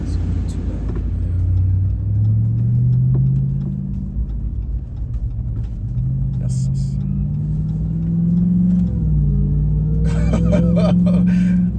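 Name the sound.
Dodge RAM TRX engine running with supercharger whine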